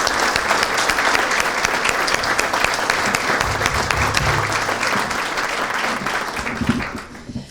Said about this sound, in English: Please give a round of applause to Laura Costello.